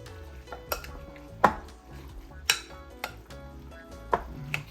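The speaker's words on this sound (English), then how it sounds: "Now let's just stir this up and see what we got going on here. Mix it all together." Tuna salad stirred and mixed in a bowl, giving a series of sharp utensil clinks and scrapes against the bowl at an irregular rhythm, close and fairly clear over a low background hum.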